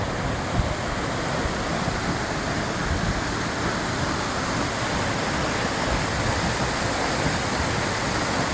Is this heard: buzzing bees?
no